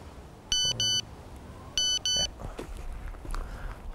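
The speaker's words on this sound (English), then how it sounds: "I'm just after getting a text message." A mobile phone text message alert sounds as two pairs of short, bright electronic beeps, repeated once after a pause, close and clear over quiet room noise.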